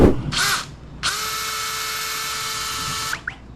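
A drain cleaning machine whirs up to a steady high-pitched spin for about two seconds, then cuts off, after a brief earlier burst of the same whine, clearing a clogged sewer pipe.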